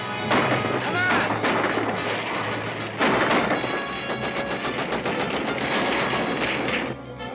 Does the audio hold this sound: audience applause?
no